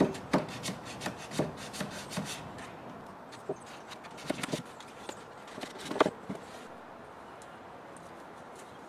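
Hand sanding on a wooden gun rack with 220 and 400 grit sandpaper, working into tight corners: soft, irregular rasping strokes in short bursts separated by pauses, quiet and close with no talk.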